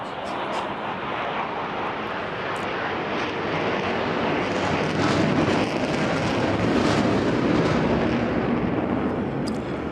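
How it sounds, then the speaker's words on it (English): A jet powers up on four Rolls-Royce Bristol Olympus 202 engines without reheat at the Goodwood Festival of Speed, a broad, continuous roar that builds slightly and holds loud throughout. "so that is quite a noise. Yes, no reheat in those. 4 Rolls-Royce Bristol Olympus 202 engines"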